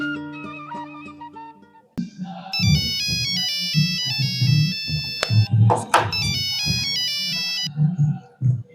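A mobile phone ringtone plays during an incoming call, a melodic electronic tune with repeating bright phrases over a beat, loud and close, with a short different chime before it.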